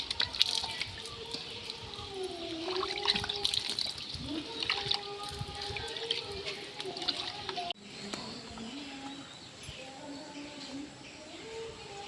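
Water splashing and trickling close by, with intermittent splatters as hands scoop and rinse, and faint voices and birds in the background.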